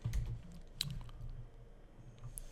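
Quick, light clicks of typing on a computer keyboard, faint and close, in a short irregular burst with no talking.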